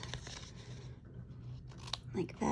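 Scissors snip through paper while a lace page is crafted: a few faint, close cuts against a quiet background, ending in a louder rustle of paper being handled.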